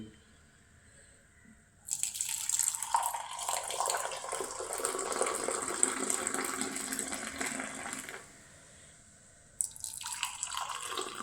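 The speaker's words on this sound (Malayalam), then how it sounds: "രണ്ട് ഗ്ലാസ്സിലേക്ക് ഒഴിക്കുവാണേ" Liquid poured into two glasses in a steady stream for several seconds, pausing, then starting again; close and moderately loud against a quiet background.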